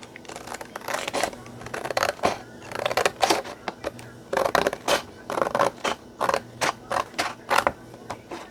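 Scissors snip through glued cardstock tags in a run of crisp, close cuts, irregular bursts at first, then a steadier series of sharp snips with short pauses between them.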